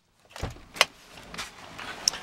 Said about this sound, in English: So let's turn off the car and let's move back there.